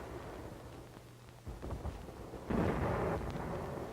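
Artillery firing on Garapan in Saipan during World War II, heard as distant, muffled rumbling booms that swell in the second half, mixed into an old, noisy documentary soundtrack with no one talking.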